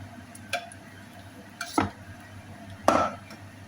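A utensil stirs a flour and milk cream in a pan for Arabic macaroni bechamel. Three separate scraping clinks sound against the pan over a low, steady background hum, close by, with no speech.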